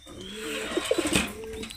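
Domestic pigeons coo in a low, soft, rolling call with a few throaty pulses, close by and clear against a faint background hum.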